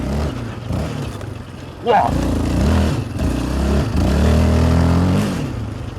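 A Yamaha 700 Raptor quad fitted with a Marving exhaust line revs up close and loud, its engine note climbing and holding in bursts, with a person exclaiming briefly over it.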